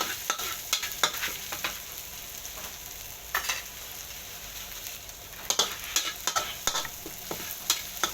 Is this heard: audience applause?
no